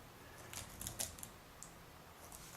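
Soft, scattered key clicks from typing on a Dell Adamo XPS laptop keyboard, faint and uneven with a few sharper taps over a low hiss.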